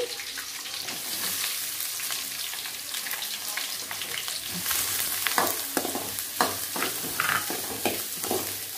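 Onions fry in hot oil for an egg curry, a steady close sizzle broken by repeated scraping and stirring strokes that grow busier partway through.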